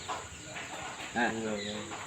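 A chicken clucks faintly with one brief louder call in the middle, heard over a steady background hiss.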